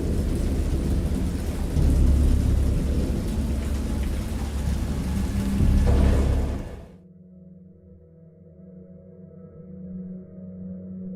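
Heavy rain and rolling thunder roar loudly in the game Dagon, then cut off abruptly, leaving a quiet low hum and faint tones.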